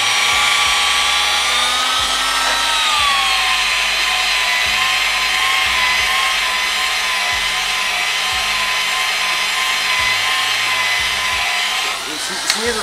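Power polisher buffing a lacquered panel coated in U-POL finish, a steady loud whirring drone with shifting tones that runs throughout before briefly dipping near the end.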